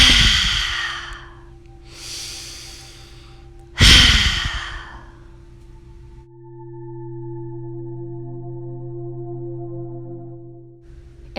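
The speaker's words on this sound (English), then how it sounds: "We'll take 3 lion's breath. Inhale through the nose, big exhale." Three lion's breath yoga exhalations, each a loud, forceful breathy sigh, come in quick succession during a balancing yoga session. A soft sustained musical drone follows and carries on alone after the last breath.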